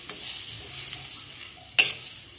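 A spoon stirs cucumber sabzi in a pan over a soft, constant sizzle, with a sharp scrape or clack near the end and a few lighter taps.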